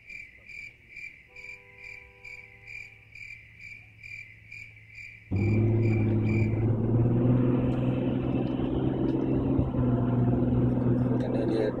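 Road traffic rumbles past loud and close, a dense steady wash of engine and tyre noise that abruptly swells midway and drowns out chirping crickets heard alone before it.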